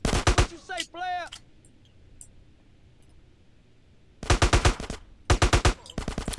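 Automatic gunfire in Grand Theft Auto: San Andreas comes in rapid, loud bursts of rattling shots, with a short stretch of quiet between, and a voice speaks briefly at the start.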